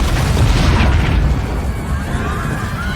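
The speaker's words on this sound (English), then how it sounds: "It's obviously Gravik, who pushes the button, causes an explosion, and all of that chaos breaks out, right?" Explosion in an episode of the Marvel series Secret Invasion, a loud, dense low rumble that swells early and then rolls on steadily for a few seconds with no voices.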